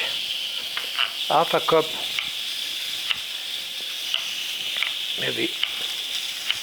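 Swordfish steak sizzles steadily on a hot grill, a continuous bright hiss running throughout, while someone talks briefly over it.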